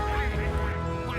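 Ducks from an arriving flock quacking, a dense cluster of overlapping calls that continues steadily through the short stretch, fairly close and moderately loud.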